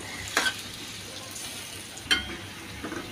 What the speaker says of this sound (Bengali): এই যে এটা একটু কিছুক্ষণ আমি ভেজে নিছি রসুন আর পেঁয়াজ।